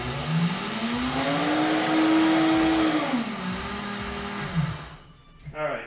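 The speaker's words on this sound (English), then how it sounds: "I just use the Vitamix to pulverize these" A Vitamix blender grinding whole flax seeds, a loud steady motor whine that rises in pitch, holds, then drops and cuts off near the end, close to the microphone.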